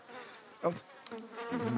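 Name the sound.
fly buzzing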